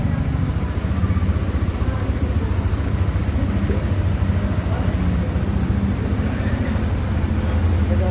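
A scooter engine idles steadily and close, a Honda Click 160 or Lance 150 that is liquid cooled and fuel injected, giving a continuous low rumble with a quick regular pulse and no talking over it.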